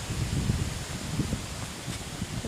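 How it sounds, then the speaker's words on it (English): Strong wind buffets the microphone during a sunny countryside walk with a Jack Russell past cows at a gate, making a continuous low rumbling roar with rustling gusts throughout. "although it is very windy here."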